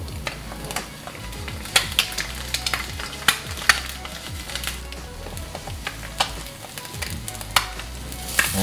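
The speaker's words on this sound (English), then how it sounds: "But since we're just frying eggs right now," Eggs fry in a Michelangelo non-stick frying pan with a steady close sizzle. Sharp clicks and scrapes from stirring or a utensil touching the pan break in at irregular moments.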